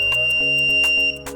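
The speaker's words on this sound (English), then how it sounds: "the alarm goes on." A small homemade anti-burglar alarm beeps in rapid, high-pitched electronic pulses, close and loud, with a steady tonal whine underneath for about a second.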